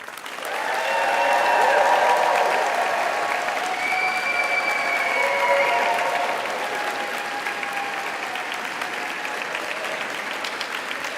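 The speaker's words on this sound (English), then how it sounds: "Will you please applaud them in return?" Graduation audience applauding in Rochester Cathedral, a broad wash of many hands swelling quickly, holding steady with reverberant ring, then slowly thinning toward the end.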